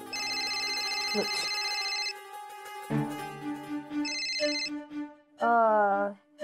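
A phone ringtone plays a bright melodic tune, with sustained tonal notes repeating and shifting, loud and close.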